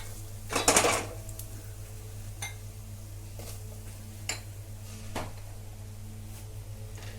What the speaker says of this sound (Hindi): मसालों को हम तुरंत से जल्दी से इसको चला देंगे ताकि ये जले नहीं